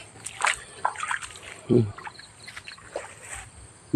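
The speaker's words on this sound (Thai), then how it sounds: "นี่เริ่มปล่อยน้ำมาใส่แล้ว" Water runs in to irrigate a coconut tree, with scattered splashes and sloshing near at hand, while someone talks over it.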